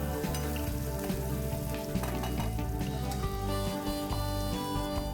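Onion frying in a pan for a spiced yogurt tadka, a steady, close, dense sizzle and crackle running without pause, with no voices.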